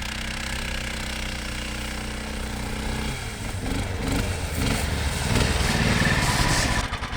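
A Snowdog snow machine engine runs, first idling with a steady low rumble and then revving up into a louder, rougher, sputtering roar as the machine pulls away through heavy snow.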